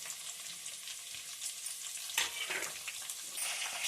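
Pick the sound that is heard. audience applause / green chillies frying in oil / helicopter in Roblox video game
green chillies frying in oil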